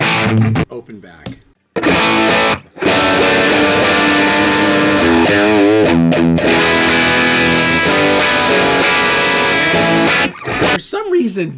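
Loud distorted electric guitar through an open-back cabinet chugs and rings out in sustained chords, with a brief gap early on and a wavering, slightly hollow tone.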